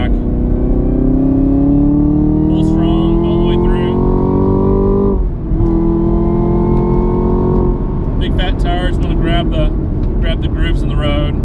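A 2018 Camaro ZL1 1LE engine revs hard and close, its pitch climbing steadily, then dipping sharply in a quick throttle blip on a downshift before climbing again, with rougher road and wind noise toward the end.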